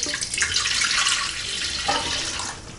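Warm water pouring into the pan of a Kuissential 2-pound bread machine, a steady close splashing stream that runs for nearly three seconds with a brief shift in tone midway.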